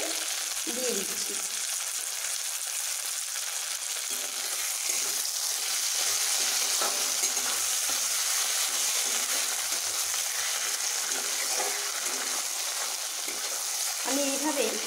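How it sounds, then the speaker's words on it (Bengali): Onions and tomatoes sizzle together in a pan with oil, producing a steady, close frying hiss throughout, with occasional stirring scrapes and no talking. "পেঁয়াজ টমেটোকে একসঙ্গে ভেজে নেব"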